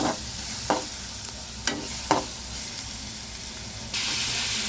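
Ginger-garlic paste, green chili and onion fry in a pan, a steady close sizzle broken by a handful of sharp spoon scrapes and stirs, with the hiss swelling louder near the end.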